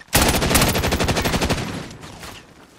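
Rapid automatic gunfire in the video game Call of Duty: Modern Warfare, a loud sustained burst of closely spaced shots lasting about two seconds before trailing off into fading echoes.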